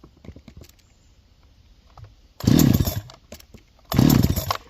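Farmertec Holzfforma G372 XP chainsaw with an OEM Walbro HD12 carburetor firing on choke, two short loud bursts of engine roar after quiet cranking and rattling, close by.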